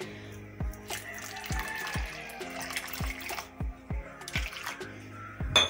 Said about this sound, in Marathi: आणि आता मी पाणी ॲड करते.